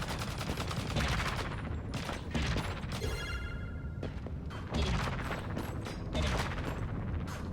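Video game gunfire fills the scene with rapid bursts and volleys of shots, loud and continuous with brief gaps, plus mechanical clatter and booms.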